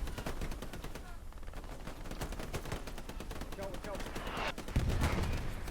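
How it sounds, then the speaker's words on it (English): Anti-tank gun fire in the video game Hell Let Loose, with a rapid series of sharp, crackling shots and a heavier blast near the end, all under a commentator's talk. "And they see the AT gun shot."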